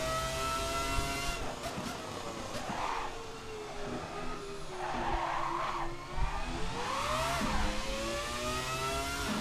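Ferrari F300 Formula One car in the racing game Assetto Corsa, its high-pitched engine climbing and dropping through quick short-shifted gear changes, with tire squeal and skidding mixed in, close and continuous.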